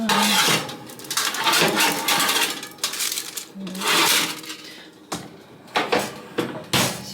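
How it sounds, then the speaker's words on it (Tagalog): A metal tray of grilled tuna is pushed into an oven with repeated clanking and scraping, loud broadband clatter in several bursts, ending in a couple of sharp knocks. "So, ilalagay na natin to sa ating oven."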